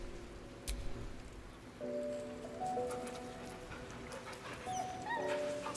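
In the Baldur's Gate 3 video game, a dog whimpers and whines in soft, drawn-out tones over faint rain-like background noise, repeating several times.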